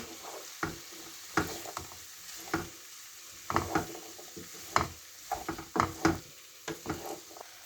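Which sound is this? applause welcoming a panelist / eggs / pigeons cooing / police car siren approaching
eggs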